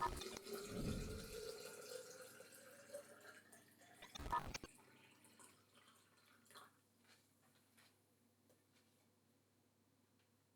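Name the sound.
water poured into a clean glass bottle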